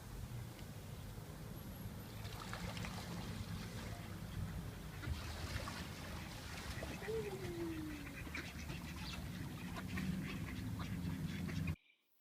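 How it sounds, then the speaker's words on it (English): Ducks quacking on a riverside as people toss old baguettes to them in Ornans, France, with faint calls over a steady outdoor water and ambient wash. "Everyone throws their old baguettes to the ducks."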